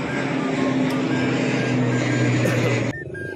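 An airplane passing overhead at Baclaran, a loud steady engine roar with a droning hum that holds for about three seconds before cutting off abruptly.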